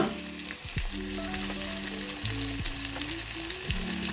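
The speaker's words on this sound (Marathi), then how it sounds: "सो आतां हांव हितून घालता वेजीस, कॅरट, रेड पंपकीन" Carrot and red pumpkin pieces sizzling in a hot pan for a sweet dish, a steady close frying hiss under sustained background music tones, without speech.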